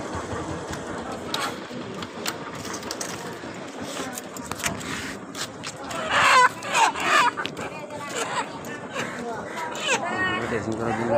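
Chickens cluck and squawk at a market chicken-dressing stall, busy and close, with people talking over them and a vehicle engine running in the background.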